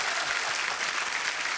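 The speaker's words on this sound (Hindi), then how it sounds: "तो बड़ा जोरदार तालियां" A studio audience on a comedy show bursts into loud, dense, continuous applause for a brief burst.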